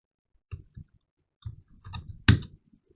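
Keyboard keys tapped while testing a web programming assignment, a few scattered soft clicks ending in one sharper, louder press of the enter key, close and alone.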